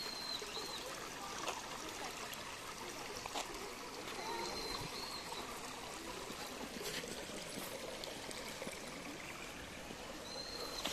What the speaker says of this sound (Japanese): 涼しそうな水の音の庭園。